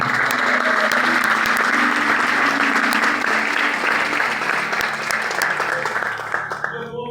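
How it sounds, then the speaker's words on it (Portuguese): Sustained applause from a congregation at a home church service, dense steady clapping that runs evenly for several seconds before thinning near the end, with some voices underneath. "no mínimo vocês iam dar um aplauso para eles."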